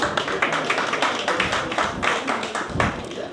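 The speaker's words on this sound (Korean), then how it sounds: "박수 한번 쳐주시기 바랍니다" Audience clapping at a Busan dance club's spring family festival, a steady dense patter of hands filling the room for several seconds at close range.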